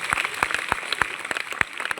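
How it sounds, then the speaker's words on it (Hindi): Applause for a teacher at a Teacher's Day celebration in a school, heard as sparse, uneven hand claps from a small group, a few loud sharp claps standing out over a steady patter for two seconds. "जोरदार तालियां नीतू मैम के लिए"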